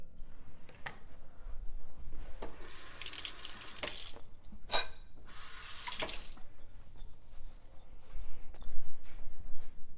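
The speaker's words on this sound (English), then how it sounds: "I'm gonna wash off my hand" Hands washed under a running kitchen tap, water splashing into a sink in two strong bursts with quieter trickling between, close and fairly soft.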